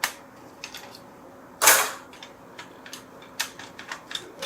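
An Xbox 360 Slim's fan output shaft knocks and clunks as it is worked up and down, giving scattered light clicks and one louder, sharper clatter close by.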